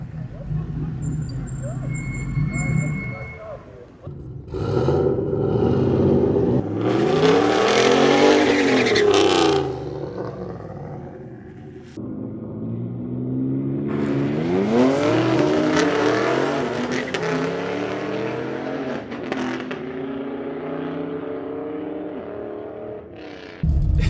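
An LS-swapped Grand Prix launches down an eighth-mile drag strip at a test-and-tune night, its engine revving hard and loud through several roughly shifted gears, with broadband roar and wind surging as it pulls away.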